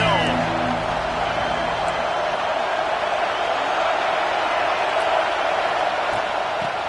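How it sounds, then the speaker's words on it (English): Stadium crowd at a college football game roars in a steady, loud, continuous wash of cheering, with a low band heard only at the start. "This crowd ready to make its presence known."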